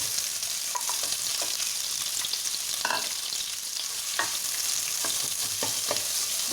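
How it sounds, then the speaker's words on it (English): Onions frying in a hot pan give a steady, close sizzle with scattered crackles and occasional stirring scrapes, and no one speaks. "And then you can drop in your onions."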